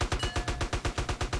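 Rapid bursts of automatic gunfire in GTA: San Andreas Multiplayer, about ten sharp shots in a steady rhythm, loud and close with no talking.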